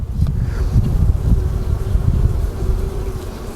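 Honey bees in an opened, overwintered Layens hive give off a loud, dense, continuous low buzz that swells close to the microphone throughout.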